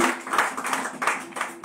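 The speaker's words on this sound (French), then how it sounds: "Acclamons d'abord le président David." A church congregation applauding their president during a New Year service, a thin, uneven clatter of clapping rising and falling in waves with faint voices mixed underneath.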